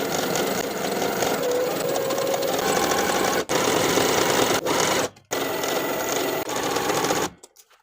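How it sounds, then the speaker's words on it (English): A sewing machine runs a wide zigzag edge stitch around the raw edges of a knit cardigan's hems, a loud continuous close whir with brief pauses near the end before stopping. "we're going to edge stitch along the raw edges all the way around"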